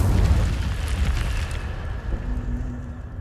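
In the Hogwarts Legacy video game, an Incendio fire spell goes off with a loud, rumbling whoosh and burst that decays into a fading crackle over a few seconds, with no voice.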